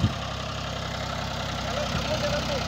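A Mahindra 265 DI tractor runs with a tiller attached, its engine giving a steady, continuous low chugging hum at close range with no pauses.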